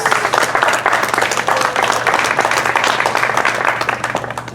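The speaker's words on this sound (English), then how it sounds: "One more round of applause, please." A crowd at a community rally against pesticides applauds nurses, loud, dense and sustained clapping that stays strong throughout.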